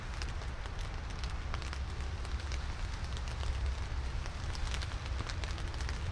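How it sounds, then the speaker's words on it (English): Steady rain falling outdoors on a riverbank during a fishing trip, a dense continuous patter with scattered sharper drops over a low wind-like rumble, no talking. "It's raining, so I hope the fish don't mind getting wet."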